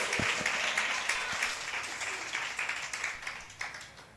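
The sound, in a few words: church congregation applauding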